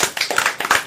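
A quick run of sharp hand claps, about seven in under a second, loud and close in a live radio podcast stream.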